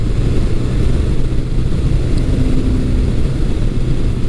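A 1982 Suzuki GS750E motorcycle engine runs on throttle during a test ride, a steady droning hum with buffeting wind noise and a faint, slight rise in pitch partway through.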